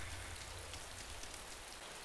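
Steady rainfall in the video game DayZ, the ARMA 2 mod, a dense continuous hiss of drops that stays even and unbroken throughout, with no voices.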